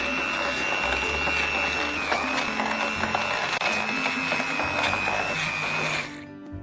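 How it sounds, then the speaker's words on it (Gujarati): Electric blender whirring steadily as it blends parfait ingredients with vanilla essence, a continuous high motor whine for about six seconds before it winds down and stops near the end. "આ બધી જ વસ્તુને બ્લેન્ડ કરી લઈશું."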